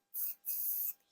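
Wax spray misted onto hair while styling a pony-tail look: two close, crisp aerosol bursts, a short one then a longer one, followed by a faint trailing hiss in a quiet room.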